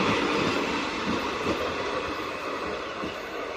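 A weekly Bandra-bound passenger train rolls past on the line near Lushala and Shapur crossing, a steady loud rumble of wheels and carriages running continuously throughout without voices.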